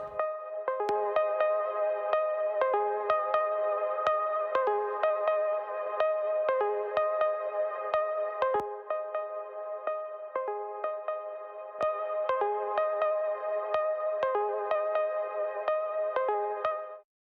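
A trance synth melody in the Anjuna style, treated with wow and flutter, plays bright plucked notes in a steady repeating pattern with echoing tails, sustained and alone without voices.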